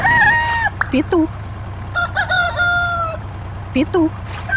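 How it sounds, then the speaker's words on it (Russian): A rooster crows loudly and close, with several drawn-out calls broken up by shorter clucks, over a constant low hum. "Петух."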